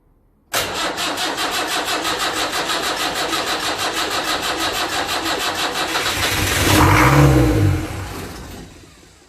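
Land Rover Series 3 with a 2 1/4 diesel engine cranking on the starter, a loud, close, rhythmic churning that runs for about six seconds and then briefly swells as the engine catches.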